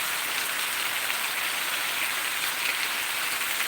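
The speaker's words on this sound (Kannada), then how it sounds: "ನಮ್ಮಲ್ಲಿ ಮೊನ್ನೆಯಿಂದ ಸ್ಟಾರ್ಟ್ ಆದ ಮಳೆ ಹೀಗೇ ಉಂಟಾಯ್ತಾ" Heavy rain pours steadily over a village, a dense, constant hiss of drops on surfaces with no letup and no voices.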